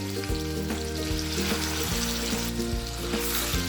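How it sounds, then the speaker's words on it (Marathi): Onion, garlic and ginger paste dropped into already hot oil for a bottle gourd curry gravy, a loud dense crackling sizzle under a steady rhythmic background hum. "कांदा लसूण अद्रकची पेस्ट होती ती यामध्ये मी टाकून घेते कारण तेल हे तापलेलंच आहे"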